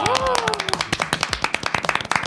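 A studio audience claps in quick, scattered bursts, with loud voices talking and cheering over it.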